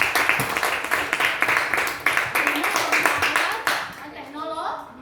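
Schoolchildren in a classroom clap for a classmate, a brisk uneven burst of many small hands that tapers off near the end as a voice comes in.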